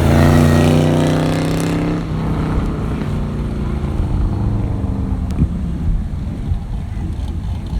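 A 1995 Corvette rolling up a hill at a Carlisle exhaust contest, its loud V8 exhaust drone passing close by and fading, with wind noise and crowd murmur behind.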